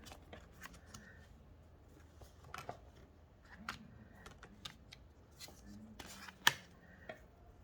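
Tarot of the Crone cards being handled and shuffled, with soft dry taps and quick flicks coming in close bursts throughout, a few sharper snaps standing out, and a faint voice murmuring underneath.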